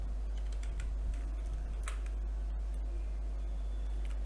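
A Linux command is typed on a computer keyboard, with faint, scattered key clicks partly buried under a steady low hum and background noise.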